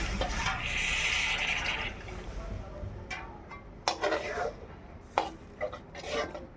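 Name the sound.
water poured into cooking masala for rui fish curry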